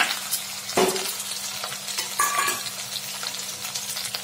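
Ghee goes into a spice mixture in a hot pan for a fish-head muri ghonto, raising a steady sizzle broken by several sharp scraping stirs and light clatters close by.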